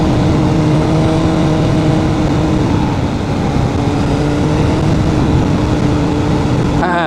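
Honda CBR600RR sport motorcycle on a leisurely road ride in the Wingdale, New York to Kent, Connecticut area, with a steady, loud engine drone and heavy wind rush throughout, no talking, and a brief change at the very end.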